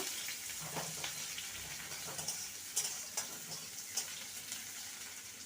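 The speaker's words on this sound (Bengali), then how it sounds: "পেঁয়াজটাকে হালকা ভেজে নেব" Chopped onions lightly frying in a pan for a red spinach dish, a faint, even sizzle with small stirring clicks and scrapes, close but quiet, no talking.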